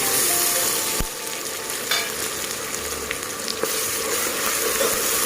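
Ground spice paste frying in oil with browned onions for an Agri-style vajri (tripe) curry, a steady close sizzle with occasional clinks and scrapes of a spoon against the pan.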